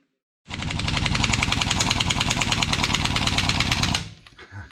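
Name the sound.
Harbor Freight small 20 gallon air compressor running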